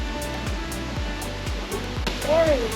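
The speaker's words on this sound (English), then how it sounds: "that is the waterfall" Waterfall at Doi Inthanon in Chiang Mai, a steady distant roar of falling water under rhythmic thumping and a brief voice near the end.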